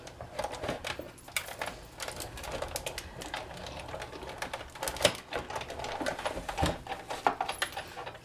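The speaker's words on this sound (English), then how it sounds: "And then you're just going to run that through the big shot." A Big Shot die-cutting machine cranks a Bigz flower die and acrylic plates through its rollers, giving close, irregular clicking and grinding ratchets with sharp ticks across the whole stretch, no voice heard.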